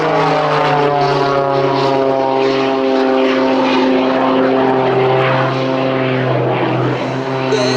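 A loud, sustained drone from a Pitts S-2S aerobatic biplane fitted with two AMT jet engines of about 350 pounds thrust each, with a strong steady tone, close by and continuous, shifting slightly in pitch near the end, at an air show.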